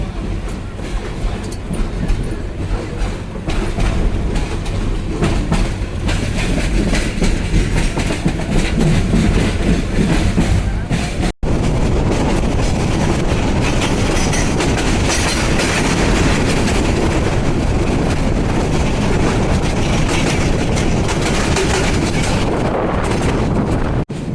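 Parabat Express train coach rolling after pulling out of the airport railway station, a loud steady rumble with clattering wheels and wind rushing past, continuous throughout with one brief dropout midway.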